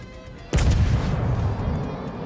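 A World of Warships battleship fires its 12-inch naval guns in one sudden, loud salvo, followed by a long rumbling roar that slowly fades.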